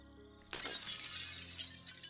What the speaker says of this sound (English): I heard glass shattering.